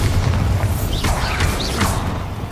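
Bombarda spell explosions in the game Hogwarts Legacy, a dense rumbling boom sustained throughout with layered crackling bursts, loud and close.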